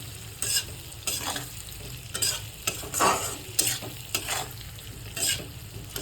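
Potatoes with turmeric and red chili powder being stirred in a frying pan, with repeated scraping strokes over a continuous sizzle, close and fairly loud.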